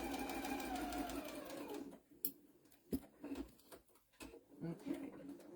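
A sewing machine stitches a patriotic tea towel, running steadily and close for about two seconds before stopping, followed by scattered ticks and handling noises while someone talks.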